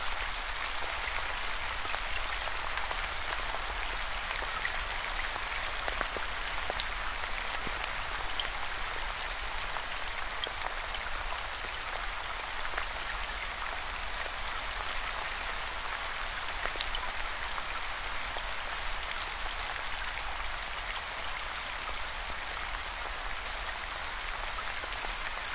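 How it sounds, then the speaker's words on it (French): Steady rain falling as a continuous, even hiss of drops with no pauses, like rain on a tent canvas or house roof, soft and unbroken throughout with no voices. "Laissez votre pluie tomber où vous le souhaitez."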